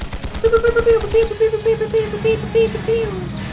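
Rapid gunfire from armored units in the video game Trails of Cold Steel 2 rattles in a quick, steady stream of bursts, layered over a tonal game sound.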